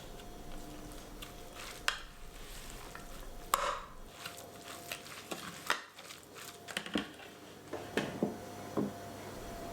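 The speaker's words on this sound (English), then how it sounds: "Give it a good mix" A spoon stirs kofta batter made with olive oil and flour in a bowl, soft wet scraping with scattered sharp clinks against the dish, close and quiet.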